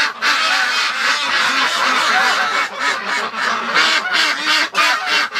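A flock of ducks and geese in a barn honks and quacks loudly and continuously in overlapping bursts, close by, with no talking.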